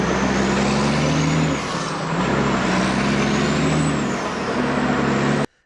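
An outback road train truck with a manual transmission rumbles close by, its engine droning with pitch rising and dipping through gear changes before cutting off abruptly at the end.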